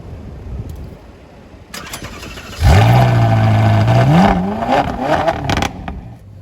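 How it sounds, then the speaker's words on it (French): A Ferrari 458 Spider fires up from cold with a sudden loud bark, revs up, then settles into a high, steady idle with a rising sweep near the end, heard close and without talk. "Cold Start de la 458 Spider."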